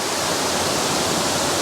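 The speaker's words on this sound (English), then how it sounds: "It's a 15-foot waterfall." A 15-foot waterfall on a forest trail at Ricketts Glen State Park pours in a steady, full broadband roar, close and loud, with no voices over it.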